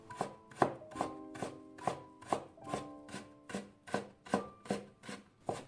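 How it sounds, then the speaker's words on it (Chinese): A peeled carrot being cut into fine shreds with a knife, a steady run of about a dozen crisp, evenly spaced chops against a board, close and alone. "再切成细丝"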